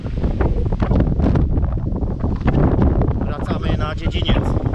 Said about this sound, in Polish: Nie wiem, czy mnie będzie słychać, bo dość duże porywy wiatru.